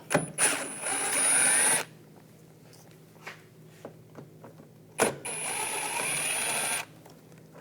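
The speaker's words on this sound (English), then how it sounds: "Take this screw out, then taking these screws out up top, use a T15 socket." Trim screws being backed out with a power driver and T15 socket on a 2014-2018 GMC Sierra grille: two sustained whirring runs of a couple seconds each, with small clicks and handling taps in between.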